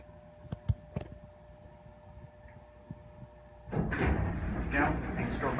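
Amtech hydraulic elevator doors slide open partway through, a broad, steady rumble that follows a few sharp clicks and knocks, heard close by in a building on Oberlin Drive in San Diego.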